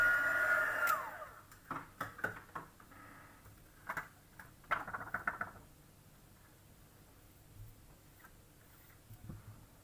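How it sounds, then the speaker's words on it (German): A hair dryer blows over a stamped card at a rubber-stamping craft session, running steadily for about a second before switching off, followed by scattered light taps and handling clicks close by in a quiet room. "Ihr könnt aber auch vorsichtshalber einfach noch einmal kurz drüber föhnen."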